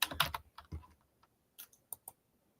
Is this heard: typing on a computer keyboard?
yes